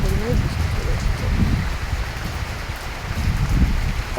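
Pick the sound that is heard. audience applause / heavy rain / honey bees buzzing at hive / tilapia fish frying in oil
heavy rain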